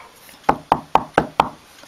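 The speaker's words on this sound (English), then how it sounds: "There was a knock at the door." Five quick, evenly spaced knocks rap sharply on a door, loud and close, with no voices.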